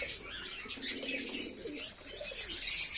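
Pigeons softly coo and flap their wings during a Sunday morning feeding, a faint, continuous flutter of wing beats and low calls.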